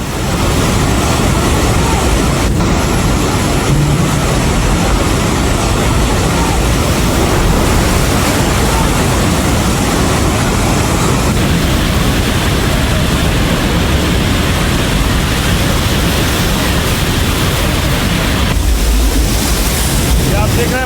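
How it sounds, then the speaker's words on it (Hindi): Fast flash-flood water rushing past at the China-Nepal border where buses were swept away, a loud unbroken roar of churning water with wind buffeting the microphone throughout. "देख रहे हैं बस खड़ी है और पानी का बहाव देखिए जरा, इतनी तेज पानी आया है कि खिलौनों की तरह बस पानी में बहती हुई चली गई"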